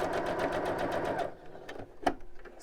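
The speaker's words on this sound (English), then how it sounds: "sew off the edge" A home sewing machine stitches steadily off the edge of a shirt fabric for about a second, then stops, followed by soft handling clicks and a small knock.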